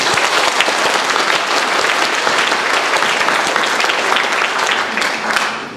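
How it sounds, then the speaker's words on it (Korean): Sustained applause from an audience at an event, a dense, steady clatter of many hands that runs loud and unbroken for several seconds with no talking. "중간중간 박수들 터져나오고 호응하는 것을 보니까"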